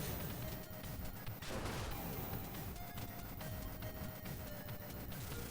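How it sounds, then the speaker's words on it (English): Heavy booming cannon shots in the game Blaster Master Zero crash through a dense, loud soundtrack, one big blast standing out amid continuous rumbling music and effects. "use the cannon shot"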